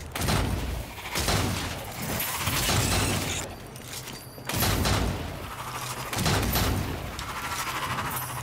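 Gunfire rings out in Strange Brigade, a dense volley of loud, sharp shots and bursts in clustered salvos with brief pauses between them, set against game music and effects.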